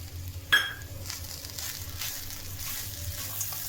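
Grated coconut and jaggery being stirred in a pan as the jaggery melts, a soft continuous sizzle and scraping with one sharper clink of the spoon early on, fairly quiet and close.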